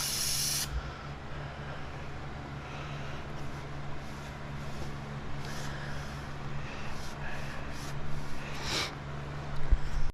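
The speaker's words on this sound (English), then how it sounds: "Just some chain cleaner." Chain cleaner sprays onto the chain of a 2022 Honda Grom motorcycle in a short loud hiss at the start, followed by faint intermittent bursts over a low steady background.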